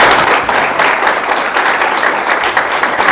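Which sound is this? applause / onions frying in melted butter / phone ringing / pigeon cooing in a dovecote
applause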